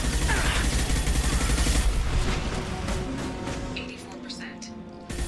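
Rapid gunfire during a Mass Effect 2 battle, dense bursts of shots and booms up close for the first couple of seconds, then thinning out under a voice and lingering hum.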